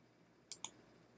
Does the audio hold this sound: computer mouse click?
yes